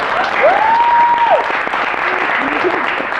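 A crowd at a law society debate claps steadily throughout, with a sharp sustained whistle rising over the applause early on.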